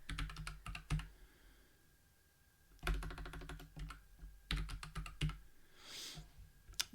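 Typing on a computer keyboard, fast bursts of close crisp key clicks separated by short pauses, quiet and alone without talk.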